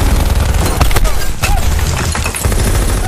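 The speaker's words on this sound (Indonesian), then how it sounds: "Setelah sekian lama tanpa basa-basi, Max langsung menembaknya" Rapid bursts of gunfire crackle through a tense film shootout scene from the crime thriller Welcome to the Punch, loud and close, with dense overlapping shots and booming impacts throughout.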